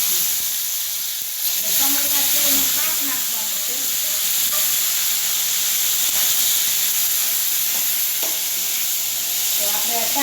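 Spices tempering in hot oil for a Gujarati vaghar, a loud, steady sizzle and hiss that crackles and spits throughout, with brief stirring sounds and no speech.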